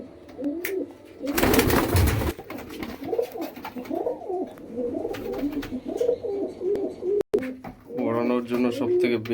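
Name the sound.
Madras pigeons cooing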